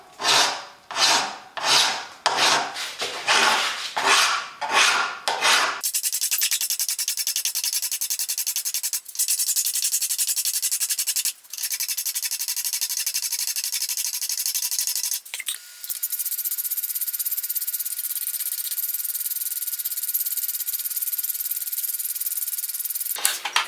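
Hand filing and sanding of excess material off a knife guard and butt cap on a cable Damascus EDC knife, first a run of steady rhythmic rasping strokes, then a long continuous close-up rubbing hiss with brief pauses.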